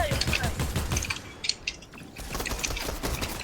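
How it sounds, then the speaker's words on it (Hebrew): Gunfire rings out in a video game, bursts of sharp, clattering shots and mechanical clicks that come in uneven clusters, fairly close and loud, with a brief lull in the middle before the firing picks up again. "אבל יש גם יריות מהבניין הזה,"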